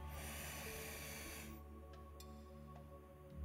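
A single long breath drawn in through the nose during a pilates exercise, a soft close hiss that fades after about a second and a half into near silence.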